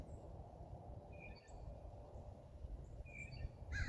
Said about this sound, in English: Sounds like a few birds chirping this morning.